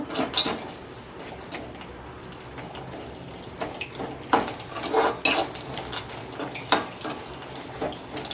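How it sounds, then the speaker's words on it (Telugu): Dry fruits and raisins fry in ghee while a spoon stirs them, with clinks and scrapes against the pan over a steady sizzle, close and moderately loud. "ఈ డ్రై ఫ్రూట్స్ అన్నీ బాగా వేయించేసుకోవాలి"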